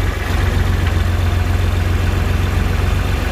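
A farm tractor's diesel engine idles steadily while warming up its hydraulics in cold weather, a close, loud, even low rumble with a fast pulsing throb that holds constant throughout, with no talking.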